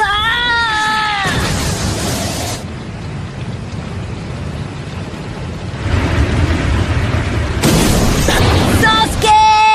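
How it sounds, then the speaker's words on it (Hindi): A fire-style dragon flame jutsu explosion from a Hindi-dubbed Naruto versus Sasuke anime fight bursts out as a loud roaring, rumbling blast that swells, eases and surges again, framed by brief wavering dramatic tones at the start and end. "Fire style dragon flame jutsu."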